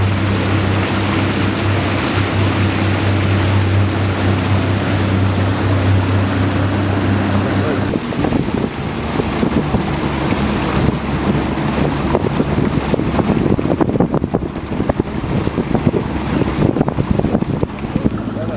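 A small boat moves through flood water in Otočac, with a steady low motor drone and wind buffeting the microphone, then choppier splashing and water noise in the second half, close and continuous.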